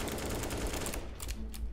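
Rapid automatic gunfire from the CS:GO shooter game, a dense continuous burst of shots filling the whole moment, loud and close with no talking over it.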